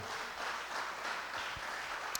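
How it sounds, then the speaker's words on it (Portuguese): A church congregation applauds during a Wednesday worship service: a steady, diffuse wash of clapping holds at an even, moderate level for about two seconds, with no voices over it. "Você pode aplaudir o nome dele mais uma vez?"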